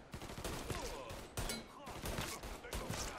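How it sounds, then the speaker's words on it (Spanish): Repeated shotgun blasts in the video game Mafia 3, sounding oddly muffled as if suppressed, a rapid series of sharp bursts spread across a few seconds at low volume. "Suena muy raro el disparo"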